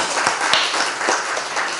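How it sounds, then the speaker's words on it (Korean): A brief burst of audience applause, many hands clapping together at moderate loudness for a couple of seconds. "박수 한번 쳐주세요."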